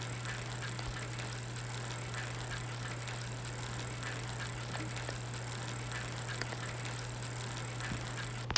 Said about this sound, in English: I usually just ride my bike to school